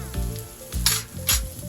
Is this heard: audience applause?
no